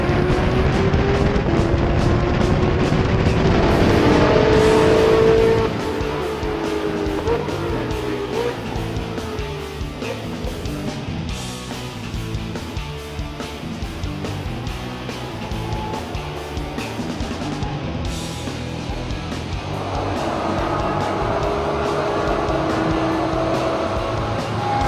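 GT3 race cars race on a circuit in an International GT season event, loud engines roaring near and then fading as cars pass, shifting pitch, with a second surge of engine noise building toward the end.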